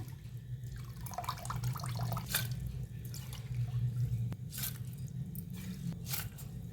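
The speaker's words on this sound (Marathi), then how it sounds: "थोडंसं पाणी ओतून मिक्सरला लावून घेऊया" Water poured in short splashy bursts into a mixer grinder jar, with a few drips and gurgles against a low background hum.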